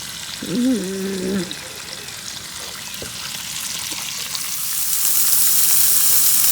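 Bacon sizzles steadily in a hot pan at a camp cooking setup, a dense crackling hiss that swells louder toward the end, with a brief tonal chirp near the start.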